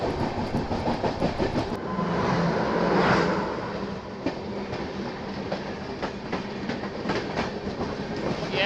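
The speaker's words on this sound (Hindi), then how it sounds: "शताब्दी एक्सप्रेस अपनी लखनऊ शताब्दी जो टुंडला से डिपार्ट कर रही है।" A Lucknow Shatabdi Express pulls out of Tundla station, heard close with a continuous rolling rumble and rhythmic clickety-clack of wheels over rail joints, building briefly then settling into steady clatter.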